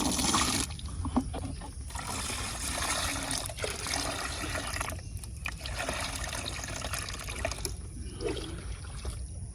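Water pouring into a farm spray pump tank, a continuous close splashing trickle with a few brief pauses.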